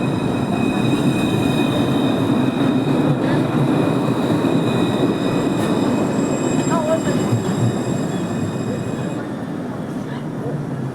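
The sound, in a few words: Montpellier tram arriving at Mosson terminus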